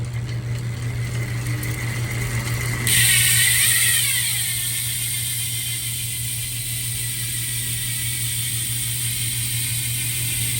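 A steady, fast mechanical buzzing of a bicycle freehub ratchet on a Hunt 55mm-deep carbon fiber wheel, close and continuous, with a brief louder whir near the start before settling into an even clicking drone.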